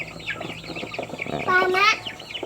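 Chickens cluck near a backyard chicken coop at a rural home, with several short bird calls and a clear rising cluck close by, mixed with background voices.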